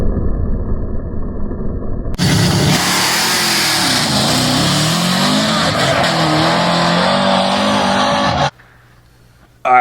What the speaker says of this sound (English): When the nitrous activated, the truck hooked up and the pinion rotated skyward